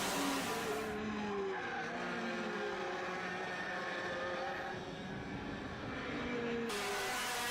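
Racing cars on a circuit roar past while overtaking, engines whining and shifting pitch as they pass at a distance, a steady loud motor drone throughout.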